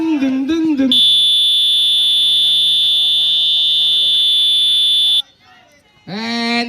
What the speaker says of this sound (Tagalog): Here comes the buzzer